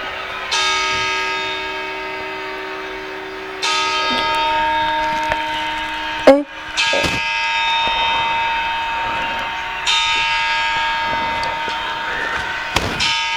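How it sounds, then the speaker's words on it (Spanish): Church bells ring out at New Year's midnight in sustained, resonant chimes, several long tolls each decaying slowly, with a sharp bang or firecracker pop partway through. "Y ahora las campanadas."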